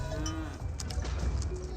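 A cow moos in the real-time strategy game Age of Empires 4, a steady low bovine call lasting under two seconds, fairly faint beneath game ambience.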